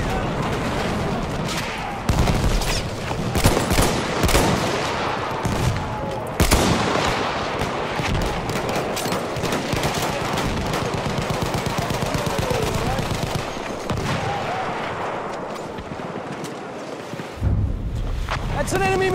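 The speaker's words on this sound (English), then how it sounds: "That's an enemy machine gun!" Enemy machine gun fire in the Battlefield 1 video game, rapid bursts of automatic shots crackling repeatedly amid other battlefield gunfire and explosions, with voices talking over the combat.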